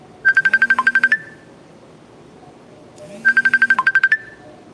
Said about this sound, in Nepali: यो बेलामा फेरि मेसेन्जरमा कल आइरहेछ।